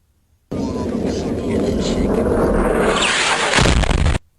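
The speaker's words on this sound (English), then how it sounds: "this is what the JDAMs sound like" A loud, sustained rumbling roar builds and swells, ending in a sharp blast before cutting off abruptly; a distant, heavy JDAM guided bomb explosion.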